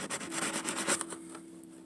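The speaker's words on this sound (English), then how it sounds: "Just scrape off the carbon." Scraping carbon buildup off copper tips, a close series of short, dry rasping strokes in quick rhythm that stop about halfway through, followed by quiet.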